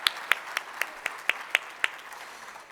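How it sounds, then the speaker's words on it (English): Applause after a performance at an innovation summit, heard as a short run of about eight evenly spaced, distinct claps that are fairly close and then trail off. "Just another big round of applause."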